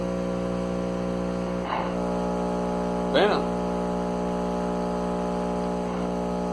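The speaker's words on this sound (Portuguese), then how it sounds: "Aqui é a onda senoidal limpa." Clean 60 Hz sine wave played through a loudspeaker in a speaker test, a steady unbroken hum throughout, with someone speaking briefly over it.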